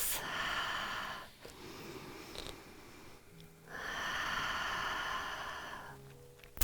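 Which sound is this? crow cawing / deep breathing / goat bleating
deep breathing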